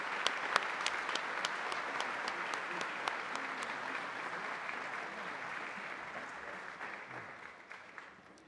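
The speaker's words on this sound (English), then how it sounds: "Let's have a big round of applause." A crowd at an award ceremony gives a long round of applause, fairly faint and distant, with a few sharper claps standing out before the clapping gradually tapers off near the end.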